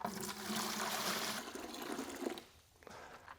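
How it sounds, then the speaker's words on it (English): Water poured into a container and weighed out for mixing a GFRC concrete countertop, a steady broadband rushing pour that holds for over two seconds, then thins to a trickle and stops. "So I'm going to go ahead and weigh that out now."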